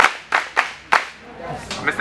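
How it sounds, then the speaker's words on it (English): Several sharp, separate claps ring out at a youth foundation Christmas party for a speaker. The claps come at an uneven, spaced-out rhythm with a quiet pause between them, close and loud, with a few more toward the end. "Okay, clap for him."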